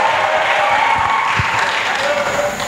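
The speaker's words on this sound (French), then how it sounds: "Acclamation avec des cris de victoire et des cris de joie" A church congregation at a pastoral academy session applauds and cheers, a loud continuous wash of clapping and voices filling the short moment.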